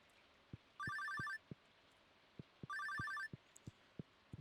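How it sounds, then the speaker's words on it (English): A telephone rings in the Stardew Valley video game, two bursts of electronic trilling separated by a pause, set against a soft, regular clicking pulse, with no voices. "The phone always rings late at night."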